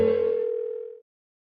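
Single steady electronic phone tone from the video game Persona 4 Golden, held for about a second at moderate loudness and then cut off abruptly into silence.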